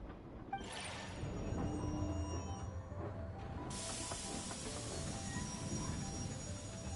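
Steady hiss and rumble of a train ride in the video game Genshin Impact, with a continuous broadband rush, low rolling rail noise and a burst of steam-like hiss joining partway through.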